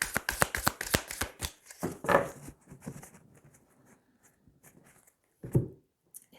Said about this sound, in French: on va tirer 3 cartes.